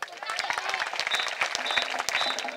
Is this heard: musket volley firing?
no